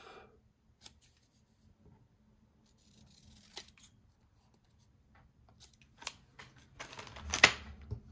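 Scissors trimming the white border off a playing card, a few soft, brief snips spread out, quiet and close, with louder cutting clustered near the end.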